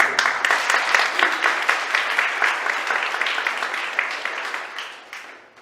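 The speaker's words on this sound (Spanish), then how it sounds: "Un fuerte aplauso para ellos." Strong applause from an audience at a church conference event, dense steady clapping that fades gradually toward the end.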